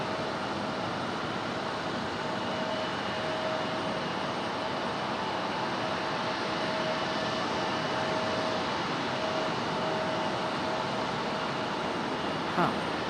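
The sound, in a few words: Delta Boeing 737-900 airliner departing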